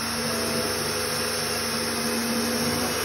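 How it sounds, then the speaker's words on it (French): An electric mixer whips cream for a vanilla caramel pecan frozen Yule log, its steady loud motor whirr droning without a break from start to finish. "ne jamais lâcher des yeux la crème qui est en train de battre"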